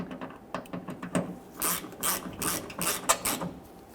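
Ratchet clicking in quick, uneven bursts while screws are snugged down on a Jeep Patriot liftgate handle, close and moderately quiet with no talk.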